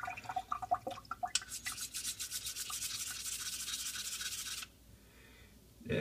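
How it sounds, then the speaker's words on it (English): A hand rubs an Apache Black Gila straight-razor hone in a few quick scraping strokes, then water runs over the stone in a steady close hiss for about three seconds before stopping. "Run some water. I know, it kills the audio,"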